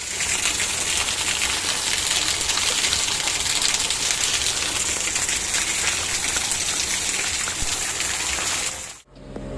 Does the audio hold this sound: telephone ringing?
no